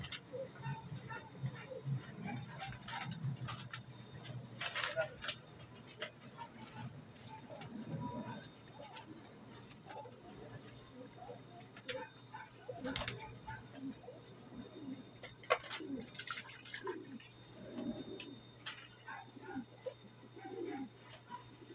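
Pet pigeons or doves coo in low, soft repeated phrases at close range, mixed with scattered chirps and rustling, while people talk intermittently over a faint steady hum.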